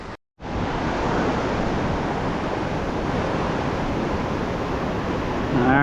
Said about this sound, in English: Maybe I'll go out and show you the waterfall.